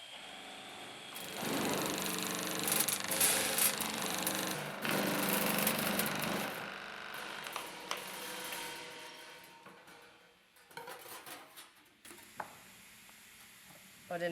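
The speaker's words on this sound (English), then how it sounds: "we got started cutting out the stainless steel for the top and bottom of the furnace" A power tool cuts stainless steel sheet for the top and bottom of a gas metal-melting furnace, producing a loud, harsh, sustained grinding hiss that cuts out partway, followed by quieter clatter and intermittent bursts.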